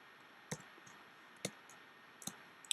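A computer mouse clicks four times at uneven intervals, sharp and close against a quiet background hum.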